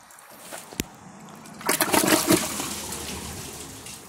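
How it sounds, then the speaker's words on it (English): A Kohler toilet flushing into a dry bowl: a sharp click, then a rushing surge of water that peaks and tapers into a softer trickle as the tank refills, close by with no talking. "So I'll just give them one last flush And that'll conclude the tests. I'll do them both with a dry bowl."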